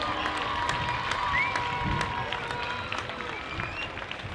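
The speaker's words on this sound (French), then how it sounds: "Et c'est la mi-temps, les applaudissements du public pour..." Crowd applause and cheering at half-time of a rugby match, a broad steady wash of clapping from a stadium audience with scattered shouts and whistles, holding level throughout and easing slightly near the end.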